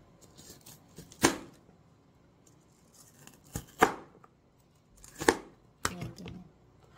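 Knife slicing kamias fruit into quarters on a board, four sharp crisp cuts spaced a second or two apart, close and fairly quiet against a soft background.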